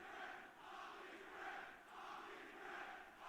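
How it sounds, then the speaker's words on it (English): A large esports arena crowd at a Call of Duty League match chants in rhythmic rising and falling waves, loud and continuous, with no voices on top. "the crowd is chanting something I don't want to repeat right now"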